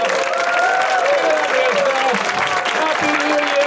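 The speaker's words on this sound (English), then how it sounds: "Round of applause to yourself." A stand-up comedy audience in Milan applauds steadily, a dense close wash of clapping with a few cheers, lasting the whole stretch.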